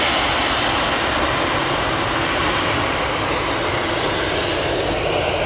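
Loud, close jet engine noise from an EasyJet airliner at Manchester Airport fills every second as a dense, unbroken roar with no speech.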